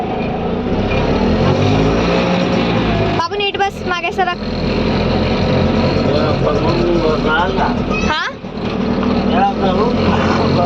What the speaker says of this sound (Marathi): फायनली रिक्षा भेटली आहे आम्हाला आता आम्ही जाणार आलोच्या स्कूलला